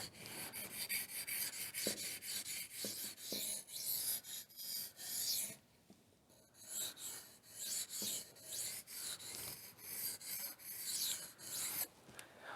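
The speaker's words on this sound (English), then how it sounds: "3000 grit, just polishing it up here." A knife edge is polished on a 3000 grit stone with a steady rhythm of soft, close rasping strokes, repeating back and forth with one brief pause midway.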